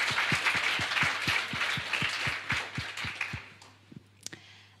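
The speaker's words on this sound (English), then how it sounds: "please give them a big round of applause." A small audience at a European climate-policy semi-final event claps for the semifinalists in a steady, evenly spaced rhythm. The applause fades out over a few seconds, leaving a couple of scattered claps.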